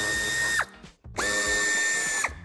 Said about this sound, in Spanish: quitaremos los tres tornillos que sujetan el paragolpes. También son tornillos de Torx de 25